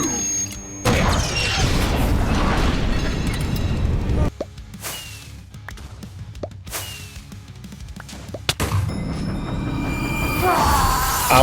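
Missile explosions from a command-built missile system in Minecraft Bedrock Edition, a continuous roaring barrage with sharp whooshing strikes and booming blasts over several seconds.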